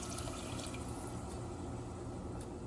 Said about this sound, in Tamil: இப்போ குருமாக்கு தேவையான அளவுக்கு தண்ணி ஊற்றிக்கோங்க